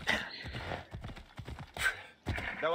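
A horse in Assassin's Creed Odyssey clip-clops along in quick rhythmic hoofbeats, fairly faint, with brief snorting or whinny-like bursts between strides.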